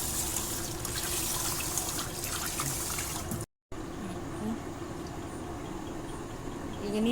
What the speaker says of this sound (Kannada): ಈಗ ನೀರು ಹಾಕಿಟ್ಟೆ